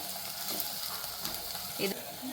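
Onions and green chillies fry in a pan for upittu, a soft, steady sizzle with light crackles and a brief stirring scrape, fairly quiet and close.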